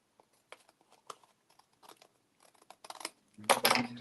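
Paper being trimmed with craft scissors during a crafting session: a few sparse, faint snips and rustles build to a louder, denser burst of cutting and crinkling at the end, with no talk.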